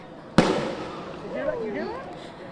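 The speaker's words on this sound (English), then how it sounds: "That was a firework thrown by a protester into the middle." A single sharp firework bang cracks out as a protester's firework lands among a police line, followed by shouting voices and crowd noise from a tense street protest.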